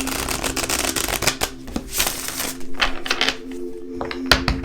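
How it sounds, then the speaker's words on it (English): A deck of tarot cards is shuffled close up, with rapid riffling bursts and flicks of stiff cards that come in uneven clusters, and no voice over them. "I'm going to give this one more shuffle and then we'll split the deck and get started."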